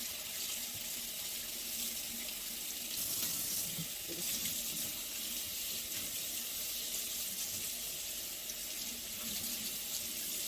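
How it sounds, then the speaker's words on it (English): Tap water runs steadily into a kitchen sink while asparagus spears are rinsed, a continuous close hiss and splash with no talking. "Give them a good rinse."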